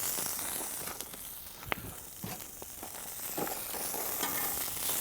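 Bacon and hamburger fry in a pan at a bush campsite in Snowy River National Park, giving a steady close sizzle with scattered crackles and a few utensil scrapes.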